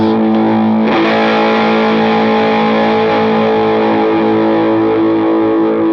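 An electric guitar plays through a Signa drive pedal, giving a loud, saturated chord struck once near the start and left ringing with long, gritty sustain for several seconds, heard alone.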